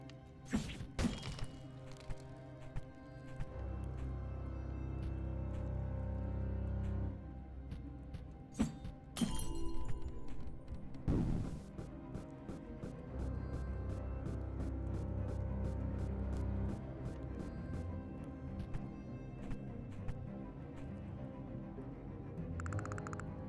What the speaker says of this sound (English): Why do the shrubs sound like breaking glass?